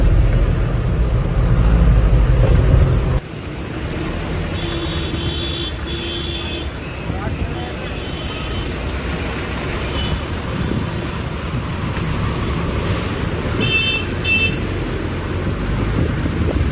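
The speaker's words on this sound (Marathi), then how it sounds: "फुल ट्रॅफिक जाम झालंय." Steady rumbling road noise inside a truck cab stuck in a traffic jam on the highway from Bharuch toward Mumbai, with wind buffeting and a few short horn toots from surrounding vehicles.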